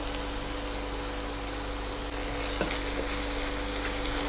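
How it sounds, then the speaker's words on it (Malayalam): Chopped onions and curry leaves sizzle steadily in a hot frying pan with fennel seeds for Kerala-style pepper chicken, a continuous close frying hiss with a light stir clink near the end. "2 ചെറിയ സവാള വെട്ടി വെച്ചിട്ടുണ്ട്, അതിട്ട് കൊടുക്കാം."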